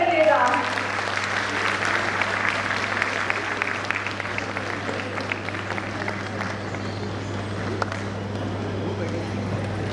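Audience applause at a school annual function, a long stretch of dense clapping from a crowd, loud at first and then steady over a constant low hum, with speech mixed in.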